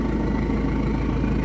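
A car engine that has a big knock and a hole in the exhaust idles loudly and steadily close by, with a constant low rumble and no pauses.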